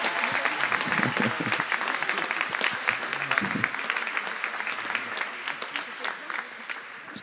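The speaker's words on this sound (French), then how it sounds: "On peut l'applaudir." An audience applauds Sandra, a long-standing member of the Radio Maria team, with dense, sustained clapping that fills the room at steady volume throughout, with no break or fade.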